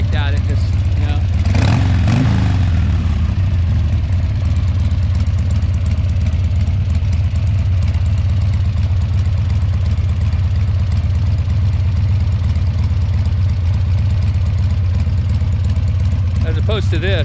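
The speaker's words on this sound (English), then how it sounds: "So if you're ever curious to what it sounds like without those baffles." A 2003 Harley-Davidson Sportster 100th Anniversary motorcycle with its exhaust baffles removed idles in a deep, loud, steady rumble close by, with one brief throttle blip near the start and people talking over it.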